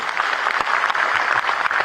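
A crowd at a government appointment letter distribution ceremony held by the education department in Dehradun claps in a dense, steady burst of applause throughout.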